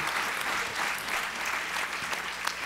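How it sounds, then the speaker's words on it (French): An audience at a French-language lightning-talk session claps together in a dense, even burst of applause that fills the room without pause for a few seconds. "une dernière main d'applaudissements pour cette première série"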